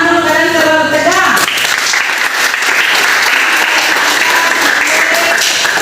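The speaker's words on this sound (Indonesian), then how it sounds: "yang pertama tepuk tangan dulu, kalian terlalu tegang" High school students in a classroom burst into loud, dense applause that fills the room and carries on steadily, with a voice trailing off just before the clapping starts.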